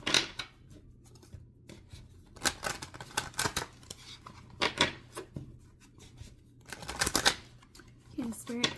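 A deck of tarot cards is shuffled by hand in repeated brisk riffling bursts separated by short pauses, close up and fairly quiet.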